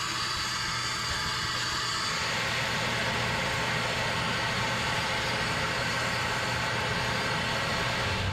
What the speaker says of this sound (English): You guys may think that I'm a little crazy for vacuuming my parts here